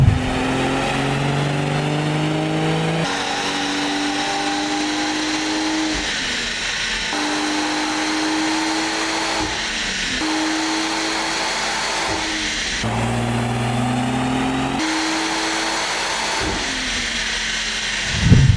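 BMW M140i with a hybrid turbo, Stage 1 mapping and Stage 3 gearbox mapping revs hard on a dyno, loud engine notes climbing through repeated gear pulls with brief breaks between shifts, continuous and close.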